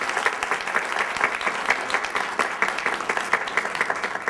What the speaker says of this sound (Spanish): Entonces, un aplauso también al doctor Jaime García Chávez